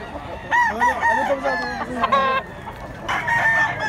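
A gamefowl rooster, a Kelso roundhead and Popeye grey bloodline bullstag, crows loudly and close several times with clucking between the calls, and no voices.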